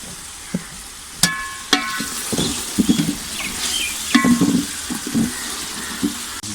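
Peas and capsicum fry in a pan for chicken fried rice, giving a soft sizzle broken by a few sharp metallic clinks and scrapes of a spoon against the pan, close by and with no talking.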